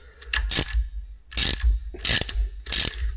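A ratchet wrench clicks sharply in four quick bursts while undoing 10mm hex covers on a flood-damaged Mini Cooper R50 engine during a full stripdown, close and loud with short pauses between.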